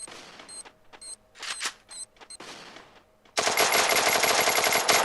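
Gunfire in the Free Fire mobile game, with short bursts of clipped shots broken by gaps, then a dense, loud continuous volley of automatic fire to the end.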